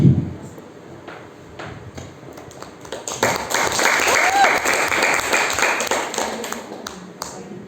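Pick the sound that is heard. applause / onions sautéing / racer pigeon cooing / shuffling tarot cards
applause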